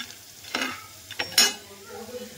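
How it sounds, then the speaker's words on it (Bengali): Flattened rice and peanuts fry in a pan for chira pulao, with a close sizzle and three distinct scraping stirs, the last one sharpest, over a soft steady crackle. "এখানে আমি চিড়েটা বাদামটাকে ভেজে নিচ্ছি হালকা লাল করে"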